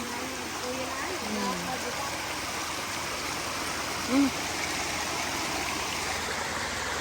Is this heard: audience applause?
no